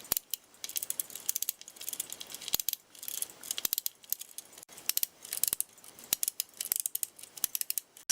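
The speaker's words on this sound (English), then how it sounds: "At this point I get a large blade, screwdriver blade, try to wind the watch up." A large screwdriver blade winds a Smiths Ingersoll Cal PY pocket watch, producing rapid, uneven ratchet clicks in quick bursts, sharp and close against a quiet background.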